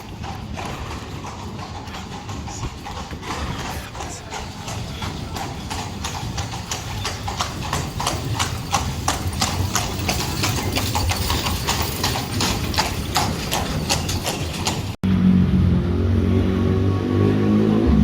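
Steady clip-clopping of horse hooves on pavement in a Belgian town on a hot day, continuous and fairly close, with a brief change in background noise near the end.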